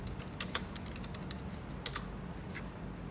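Keys clatter on a computer keyboard in quick, irregular bursts of close clicks while a web address is typed, over a low steady room hum.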